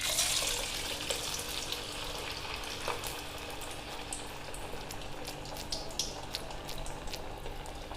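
Onion bajji sizzle and bubble in hot oil, a steady loud hiss with small crackles and pops throughout.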